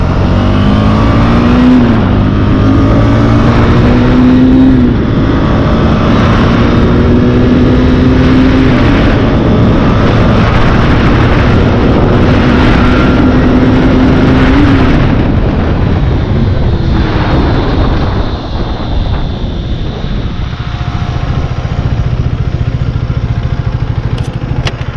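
A Husqvarna Svartpilen 250 motorcycle with dual-channel ABS, a 320 mm front disc and a 230 mm rear disc runs a 100-to-0 braking test. The engine revs loudly up through gear shifts, then the note drops away as the bike slows under heavy wind noise.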